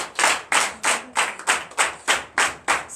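A church congregation claps in unison to acclaim Jesus during a Sunday service, with about ten loud, evenly spaced claps in a steady rhythm and no talking.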